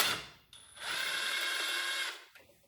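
A ratchet working a bolt on a Husqvarna 450 Rally Replica motorcycle: a short opening burst, then a steady, close run of clicking lasting about a second before it stops.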